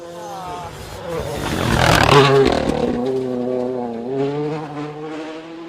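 Rally car on a Scottish special stage approaching from a distance, its engine note rising to a loud pass and then easing away, with commentators talking over it.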